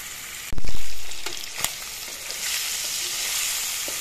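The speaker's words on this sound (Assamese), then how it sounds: "এইখিনি মই এইবিলাক প্ৰথমতে মিনিটমান সময় মাছখিনি মই এনেদৰে ভাজিম।" Fish pieces fry in a pan, starting with a sudden loud hiss as they hit the hot oil, then settling into a steady sizzle with a few stirring knocks and no voices.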